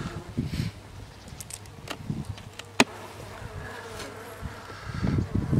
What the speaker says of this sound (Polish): Pszczoły siedzą dość spokojnie